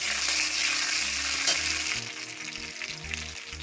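Bay leaves, dried chillies and cardamom fry in hot oil, giving a loud, close, steady sizzle with stirring clatter partway through and no talk.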